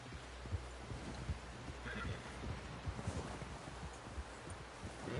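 A horse in Red Dead Redemption 2 neighs briefly midway through a dense, rustling bed of hoof and movement noise that runs steadily throughout.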